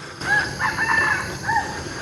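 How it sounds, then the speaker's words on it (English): A rooster crows a few times at an early-morning outdoor spot in Kuala Lumpur, fairly faint and somewhat distant over steady background ambience, with no talking. "And my friend the rooster is also back."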